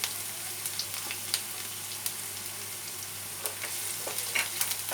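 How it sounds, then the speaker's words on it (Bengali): Chopped garlic and ginger shallow frying in a pan for garlic prawns: a steady, gentle sizzle with small crackling pops and occasional stirring sounds, close and continuous with no talk. "রসুন কুচি আর আদা কুচি খুব বেশি ভাজা হবে না,"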